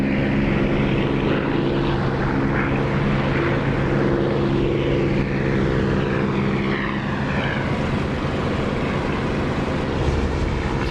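A Harrier jet roars in a flight combat simulator game, a loud, continuous engine drone with a steady tonal whine and shifting rushing noise, heard alone without talk.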